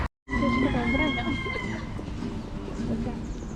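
A rooster crows loudly and up close, one long drawn-out call with clucking fowl around it.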